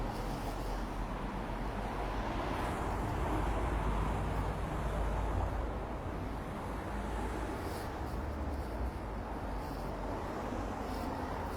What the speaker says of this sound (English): there's a lot of traffic around at this time of day